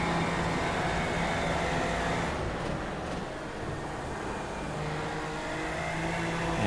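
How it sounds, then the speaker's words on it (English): Super Formula Lights race car onboard at Monza in the iRacing sim, a continuous loud engine drone that holds steady with a slight dip and recovery midway, no voices. "We're on board with our 4th place car, Michael Ford."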